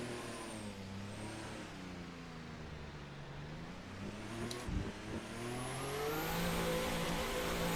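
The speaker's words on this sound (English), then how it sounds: "let's punch up first gear and get this car out on track" An RSS Formula Hybrid 2018 race car in a video game pulls away onto the track, its engine rising steadily in pitch through the gears, loud and continuous with a brief click partway through.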